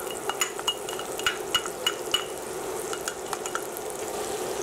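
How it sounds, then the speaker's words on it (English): Minced garlic and onion sautéing in melted butter, a gentle sizzle under repeated sharp clinks and scrapes of a utensil stirring in the pan, close and fairly quiet. "We will let our garlic and onions sweat here."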